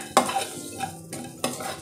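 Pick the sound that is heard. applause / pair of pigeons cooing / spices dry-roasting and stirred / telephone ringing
spices dry-roasting and stirred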